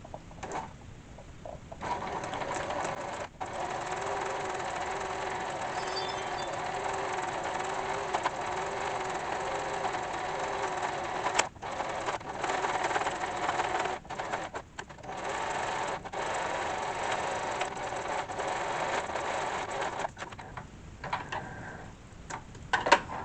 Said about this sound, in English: I'm going to start with the embroidery.